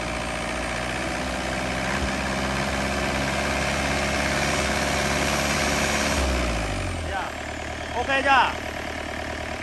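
A Yanmar 4TNV98 turbo diesel engine for a cutting machine idles with a steady, droning rumble, then winds down and shifts tone partway through. A voice briefly speaks over the engine near the end.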